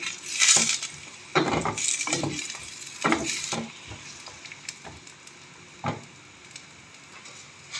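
Onions frying in a pan for kadhi pakora give a steady sizzle, broken by several louder bursts of crackle and stirring scrapes, close and fairly quiet with no talking.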